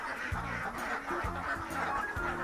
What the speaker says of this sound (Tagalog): Ito na po yung itik ni Ron.